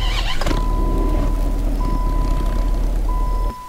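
A 2008 Dodge Viper starts up in the Roblox game Greenville: a short cranking burst, then a steady, loud idle drone with a high whine running underneath, cutting off abruptly at the end.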